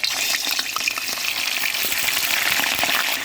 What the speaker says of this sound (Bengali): তেলটা আমার গরম হয়ে গেছে এখন আমি দিয়ে দেবো মাংসগুলো